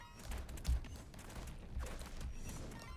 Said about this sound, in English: I'm wrecking shit now, because we're getting these explosions.